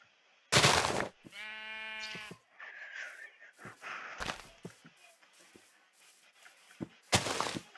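A sheep in Minecraft Java bleats with a loud, wavering cry, among several sharp thumping hits and scattered game sounds, with a second loud burst near the end.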